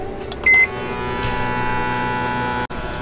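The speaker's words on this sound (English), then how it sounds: "put the cheese on top, and then it's microwave time" A 700 watt microwave oven heating food topped with cheese runs with a steady electrical hum and whirr, starting with a brief high beep, then droning on until a sudden click cuts in.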